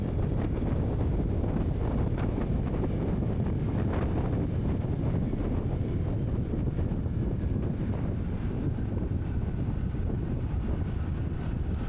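Strong wind buffets the microphone continuously on a motorcycle ride along a curvy road from Tagum City to Mawab, a loud rumbling roar with gusty texture throughout and no voices.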